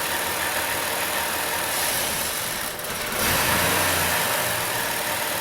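A Dodge Grand Caravan's 3.8 engine idles loudly and steadily during an EGR valve test, with a brief dip in the running sound partway through before it settles back to a rough, even idle.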